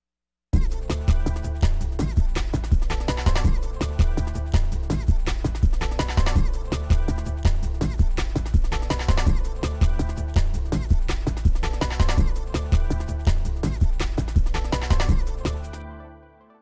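An electronic track built on a Polyend Tracker plays steadily for about fifteen seconds with a punchy repeating beat and layered synth notes, then stops abruptly and fades out.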